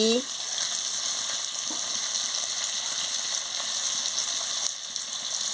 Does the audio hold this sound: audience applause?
no